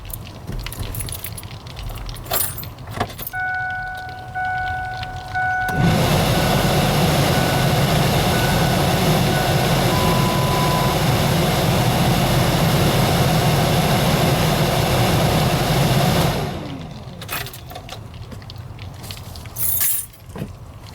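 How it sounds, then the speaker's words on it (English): A replacement blower motor fan for a 1997–2004 Ford F-150 spins up to a steady, loud whirring hum that holds for about ten seconds, then cuts off, with faint clinks and handling noises around it. "Now I'm gonna turn the fan on just to make sure there's no issues and that it's spinning freely"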